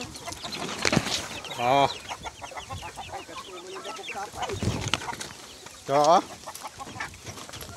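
Hens at a poultry farm cluck in close, steady bursts with rising squawking calls. A person makes brief exclamations over the flock.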